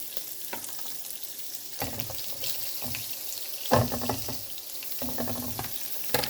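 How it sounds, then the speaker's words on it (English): Sausage frying in a little oil in a small skillet, a steady sizzle broken by louder clattering bursts as the pieces are moved and stirred, with no talking. "So I'm going to put the sausage in a little bit of oil"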